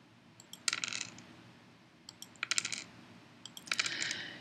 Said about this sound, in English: In order to roll the dice, you simply tap on the screen.